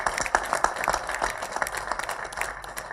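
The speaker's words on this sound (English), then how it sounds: "I think that deserves a big clap." An audience at an alumni association ceremony claps in a hall. The clapping is dense and crackling, with individual sharp claps standing out, and it is moderately loud throughout.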